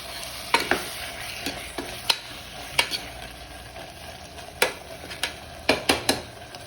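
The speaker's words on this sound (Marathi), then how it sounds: "चांगलं परतवून घेऊ." Masala sautéing for a Malvani home-style prawn biryani, with a soft, quiet sizzle under sharp, irregular clacks of a spoon stirring and scraping the pot several times.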